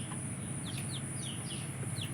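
Several chickens in a home bird collection cluck and chirp in short repeated bursts, faint over a constant low hum, with no voices.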